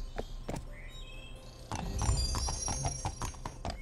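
A horse in the Barbie Horse Adventures video game clip-clops along with hoof steps, followed by a bright whinny and more trotting, heard close and clear.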